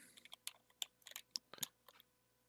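Conda command being typed on a computer keyboard, a quick irregular run of faint, close key clicks with short pauses between strokes, heard alone without speech.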